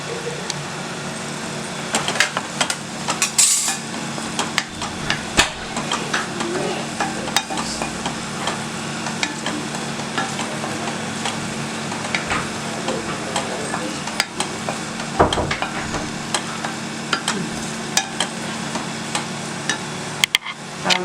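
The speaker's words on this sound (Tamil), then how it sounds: "மசாலா வந்து கொஞ்சம் வதக்கிக்கிடும்" Masala being sautéed in a pan for thatta payaru sambar, with a continuous sizzle and frequent sharp ticks and taps of a spoon scraping the pan, steady and close, no talking.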